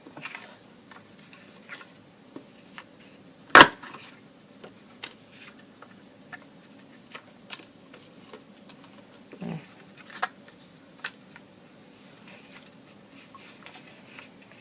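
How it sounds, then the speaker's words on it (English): An ornate tag topper paper punch clamps down on paper strips, giving one sharp, loud snap followed later by a softer crunch, with faint scattered clicks and light handling noise between them. "now I take my ornate tag topper punch, and I'm going to punch both ends of each of these strips"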